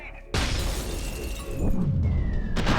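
A grenade explodes in the video game F.E.A.R. 2, a sudden loud broadband blast that cuts in sharply and then leaves a sustained rumbling, debris-filled roar with no speech over it.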